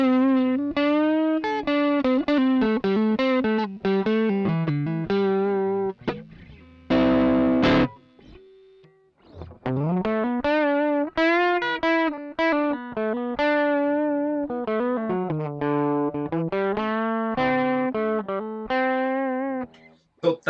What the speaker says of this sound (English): That's the pedal sound.